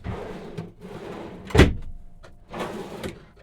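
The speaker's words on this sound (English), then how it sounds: "There's 3 large pull-out drawers on heavy-duty slides." Large pull-out drawer on heavy-duty slides in a 2023 RAM ProMaster van conversion, several short sliding rumbles and a sharp thud as it closes, close and alone.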